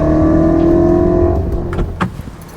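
A loud, close engine of a 2022 BMW X5 M Competition SUV revs hard with a deep, throaty M Sport exhaust note, then drops off into a few sharp pops and crackles.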